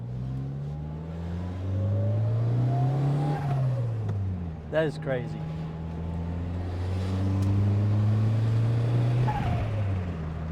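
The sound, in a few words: turbocharged car engine with blow-off valve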